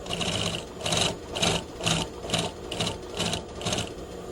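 A sewing machine stitches around the outside of a pocket pouch on a garment, running in steady bursts roughly every half second with a repeating mechanical chatter, close and loud with no voices.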